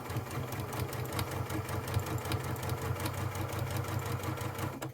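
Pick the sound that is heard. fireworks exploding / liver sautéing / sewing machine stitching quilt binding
sewing machine stitching quilt binding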